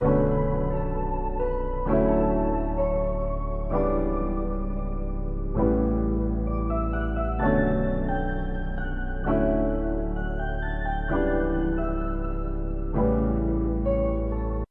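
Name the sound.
piano melody loop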